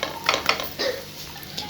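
An egg and mixed vegetable paratha is turned over on a hot pan, giving a few close, quick scraping clinks and soft spatula taps with a faint sizzle underneath.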